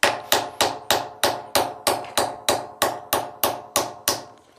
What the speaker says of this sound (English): I will angle it down roughly 45 degrees as I hit it with the hammer